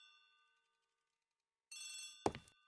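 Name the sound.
telephone ringing in Agatha Christie ABC Murder video game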